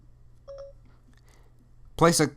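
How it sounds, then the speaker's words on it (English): An iPhone gives two quick, quiet electronic beeps as Siri activates after the home button is held, in a near-silent room, and a moment later a voice starts speaking. "So when we hold it down for 3 seconds, we get a little beep beep."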